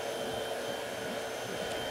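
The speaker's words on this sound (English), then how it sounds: "you definitely need to vacuum these pillows as well" Vacuum cleaner running on fabric sofa pillows, a loud, steady whining drone with a constant motor tone, close and uninterrupted.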